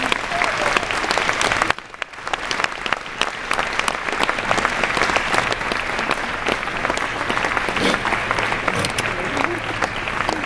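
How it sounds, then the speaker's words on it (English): Sustained applause from a theatre-style audience for the War Horse puppeteers at BETA International 2012, dense and steady for about ten seconds with a brief dip near the start. "give Robin, Ben and Toby a huge round of applause"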